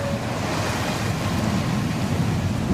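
Heavy rain and floodwater on a flooded street in Makati, Manila, give a steady, dense roar of rushing, splashing water that stays loud and continuous throughout, with no voices.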